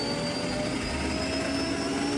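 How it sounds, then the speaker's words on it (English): A gas turbine runs in the RotaryCraft mod for Minecraft with a steady, even jet-like roar, a constant broadband rush with a faint high whine on top and no change in pitch or level. "So we'll plonk down a gas turbine,"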